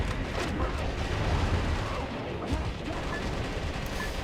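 Dense, continuous machine gun fire from the Metal Wolf Chaos video game, a loud unbroken roar of rapid shots and blasts throughout, with no pauses.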